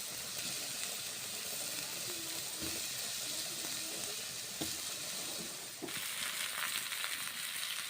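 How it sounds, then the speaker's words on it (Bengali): Steady hissing sizzle of fried cauliflower added to a wok, with occasional soft clicks and stirring noises and a brief louder burst of sizzling midway. "ভাজা ফুলকপিগুলো এবারে কড়াইয়ের মধ্যে ছাড়ছি।"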